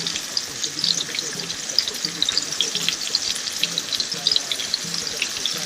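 Chopped onion fries in about three tablespoons of oil in a pan, giving a steady, moderately quiet sizzling hiss with fine crackles throughout.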